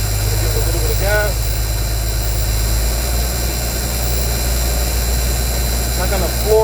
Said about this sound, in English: I'm going to go ahead and fire up the truck one more time.